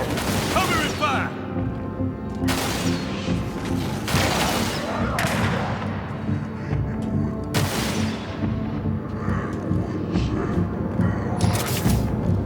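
Halo campaign combat with repeated bursts of gunfire and booms, dense and loud throughout, layered over music and battle noise, with sharp volleys recurring every couple of seconds.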